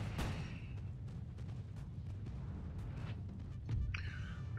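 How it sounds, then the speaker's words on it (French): Cannon fire in Napoleon: Total War, a Napoleonic-era strategy game battle, comes as booming low thuds over a steady rumble of battlefield noise, with a sharper burst near the end. "Le canon tire sur le général adverse."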